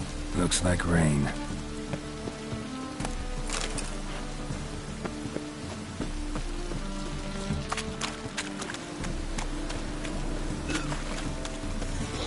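Steady rain falls in The Witcher video game, a dense wash of drops with scattered sharper patters, layered with music and other game sounds throughout.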